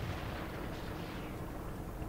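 Dense, continuous rumbling of heavy tank gunfire and impacts in a video game, loud and sustained with no pauses, like a battle raging.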